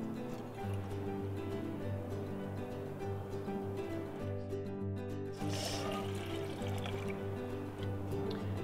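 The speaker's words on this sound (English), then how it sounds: "Measure out our 2 cups of water." Two cups of water poured into a pot set on a Fancy Feast cat-food-can backpacking stove, a steady trickling pour over a constant low hum.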